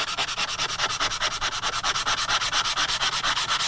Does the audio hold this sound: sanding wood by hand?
yes